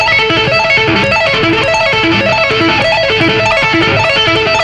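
Fast electric guitar tapping arpeggio in a rock style, mostly hammered-on notes rather than picked, ringing in a quick repeating pattern that is loud and continuous, with no talking.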